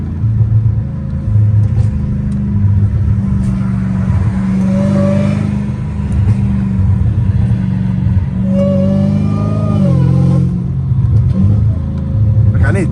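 Straight-piped Dodge Hellcat Redeye pulling hard through a suburb, a loud, deep exhaust roar that holds steady and rises in pitch as it accelerates, with brief dips at gear changes and a voice talking over it.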